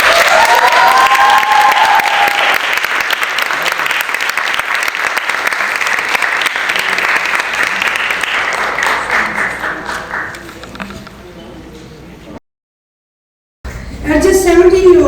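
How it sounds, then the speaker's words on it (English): Audience at a women's rights lifetime achievement award ceremony breaks into loud, sustained applause with a speaking voice over the start, tapering off, then a brief silence before talk resumes. "Give another round of applause please for Baza Ruhi."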